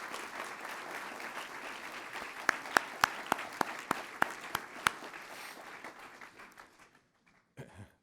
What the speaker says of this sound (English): give all your professors another hand of applause for what they do